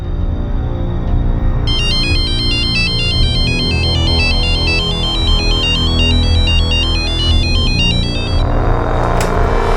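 A loud electronic phone ringtone plays a repeating warbling melody for several seconds over a steady low background hum, then stops abruptly.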